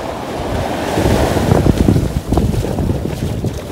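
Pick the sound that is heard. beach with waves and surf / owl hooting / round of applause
beach with waves and surf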